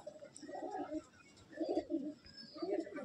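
An Andhra pigeon coos in a loft, three soft rolling coo phrases in an even rhythm, close and fairly quiet with no talk over them.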